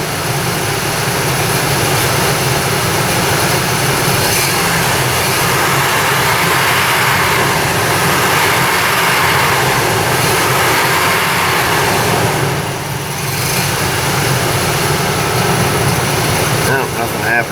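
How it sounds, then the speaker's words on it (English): Chevy Colorado with a P0017 cam-crank correlation fault running close by, a loud steady engine drone that swells slightly during a light rev, then settles back to idle. "We'll give her a little bit of a rev up tune up here, see if it changes at all."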